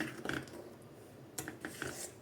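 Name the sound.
stirring badam milk with a ladle in a pot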